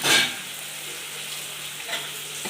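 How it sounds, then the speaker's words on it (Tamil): Chicken curry with masala frying in a pan, a loud, close, continuous sizzle with a couple of brief stirring scrapes, no talk over it. "இப்போ வறுத்துக்கலாங்க, போட்டுக்கலாம்."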